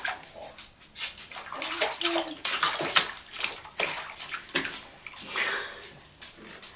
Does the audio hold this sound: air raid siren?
no